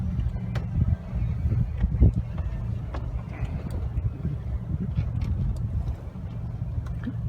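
Stiff easterly wind of about 14 to 15 knots buffeting a microphone aboard a sailboat on a lake, a steady low roar with gusty swells and faint water sounds throughout, no voices.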